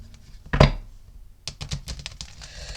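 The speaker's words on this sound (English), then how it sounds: "let me give him another shuffle and see." A tarot card deck is shuffled by hand: one louder riffle or thump of cards, a short pause, then a rapid run of light flicking and tapping card sounds, close and without talk.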